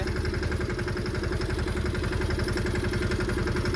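A small tractor engine idles close by with a steady, rapid low thumping rhythm, loud and unbroken throughout.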